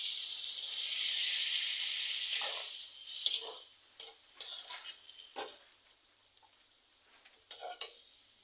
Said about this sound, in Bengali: এবার আমি এক কাপ জল দিয়ে দিচ্ছি